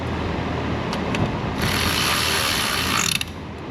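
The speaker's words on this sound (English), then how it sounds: "Tighten that one up" Ratchet clicking steadily as a bolt on a car's radiator fan module is tightened, a close, continuous mechanical whirr for most of the stretch, then stopping abruptly near the end.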